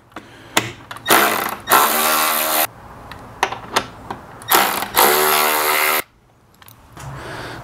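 A power drill or impact driver backing two 10 mm bolts out of a Jeep Wrangler 2.0 turbo engine bay, loud close whirring bursts of a second or so each, separated by short pauses and clicks.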